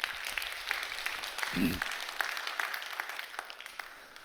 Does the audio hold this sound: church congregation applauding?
yes